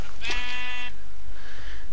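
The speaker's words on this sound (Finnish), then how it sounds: "tässä on lampaita" Minecraft sheep bleating in a farm setup, a single clear synthetic bleat near the start lasting under a second, followed by quieter game ambience with no talking.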